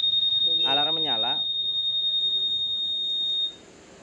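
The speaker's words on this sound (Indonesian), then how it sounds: "Alarm menyala." A Honda Scoopy keyless scooter's anti-theft alarm gives a steady, piercing high-pitched beeping tone for about three and a half seconds before cutting off, with a short burst of speech near the start.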